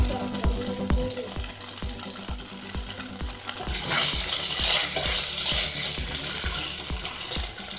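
Chickpeas in Manchurian sauce cook on a low flame in a pan, a steady close sizzle and bubbling with repeated rhythmic scraping and stirring taps throughout.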